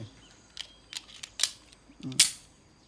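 STI Spartan .45 all-steel pistol having its action worked: a handful of sharp, separate metallic clicks and clacks, close by and fairly quiet, with one louder snap near the end against a hushed room.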